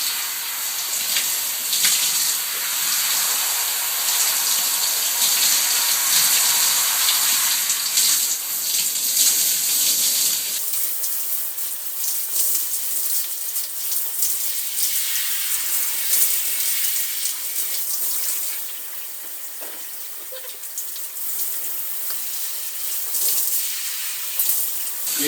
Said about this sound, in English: squeeze out the water while still under the shower